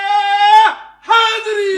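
Crowd at a religious gathering commemorating Imam Hussain's martyrdom shouting a slogan in two loud, sustained, chant-like calls separated by a brief pause.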